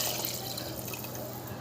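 Water poured into mutton curry in a pressure cooker, a continuous splashing pour that holds steady throughout.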